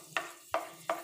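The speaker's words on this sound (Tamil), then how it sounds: "அந்த நெய்யில் வந்து நம்ம ரவை வந்து வறுத்துக்கலாம்" Semolina (rava) roasting in ghee in a kadai, a ladle scraping the pan three times in an even rhythm with a soft, faint sizzle between strokes.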